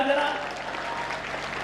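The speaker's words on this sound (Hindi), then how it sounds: "एक बार ताली वाली मिलके बजाओ यार जरा" An audience at a Hindi comedy poetry show applauds, steady dense clapping that fills the room, with a voice briefly heard at the start.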